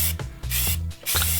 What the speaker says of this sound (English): Just want to give it a light spray of this primer.